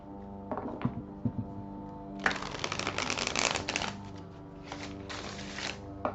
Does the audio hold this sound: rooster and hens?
no